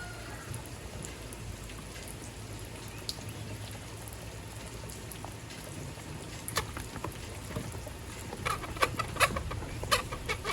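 An American Bresse chicken flaps wildly after being beheaded with a hatchet on a stump. A steady rough, rain-like rustle builds into louder bursts of flapping and thumping toward the end, with faint clucking, close by.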